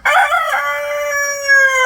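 A rooster crows loudly and close up, one full drawn-out call with a strained, ringing tone.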